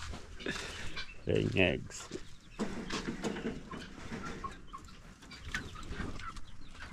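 Egg-laying hens on a village farm clucking in short bursts near and far, with a person talking over them throughout.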